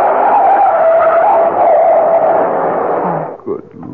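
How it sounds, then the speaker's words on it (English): A truck's tires skid in a long, loud screech in a radio drama sound effect, a sustained squeal lasting about three seconds before it breaks off into a brief thud and fading noise. "look out! That truck!"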